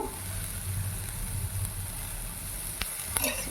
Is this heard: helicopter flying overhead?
no